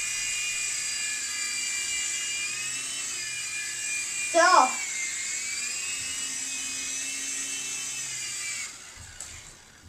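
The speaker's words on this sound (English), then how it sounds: "this helicopter is really cool because it has landing gear" A small MCX remote control helicopter flies nearby with a steady high-pitched motor whine, continuous throughout, as someone talks briefly over it and the whine drops off near the end.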